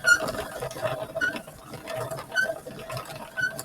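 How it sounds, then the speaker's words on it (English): A yarn swift turns with a soft rattling whir, broken by faint high squeaks at irregular moments. "The Swift is making noise this time."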